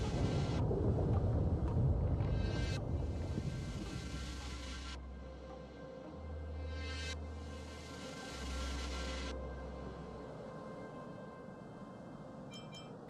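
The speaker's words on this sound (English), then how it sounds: "I think I can already hear the storm on the other side of the city walls." Storm thunder rolls beyond the city walls in the video game Honkai: Star Rail, a low, sustained rumble that swells and fades in waves over steady ambient tones, with no talking.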